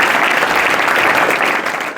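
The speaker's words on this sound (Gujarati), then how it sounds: "તાળીના નાદથી સાહેબનું આપણે સ્વાગત કરીએ." Applause welcoming a guest at SSV High School in Bhuj, a steady dense wash of many hands clapping at once, loud and sustained from start to finish before tapering slightly at the very end.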